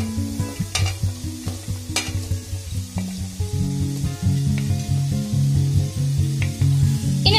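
Shallots and halved green chillies sautéing in hot oil, a loud, close crackling sizzle with rhythmic spatula scraping and clanking against the pan throughout, and no speech.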